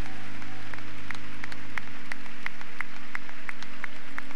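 A church congregation applauds during a 1996 Spanish-language service, a sustained wash of clapping with a few sharp, evenly spaced claps standing out over a fading low hum.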